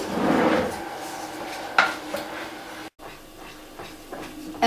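A wooden spoon stirs an oat mixture in a pan on the stove, scraping and knocking against the metal with a few clacks over a steady background hiss.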